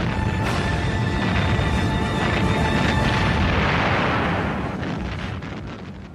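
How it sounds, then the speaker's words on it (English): Naval shelling from the 14-inch guns of the Japanese battleships Kongo and Haruna in Iron Bottom Sound, heard as a continuous loud roar of heavy booms and rumble that fades slightly near the end. "and from the 14-inch guns of the battleships Congo and Haruna"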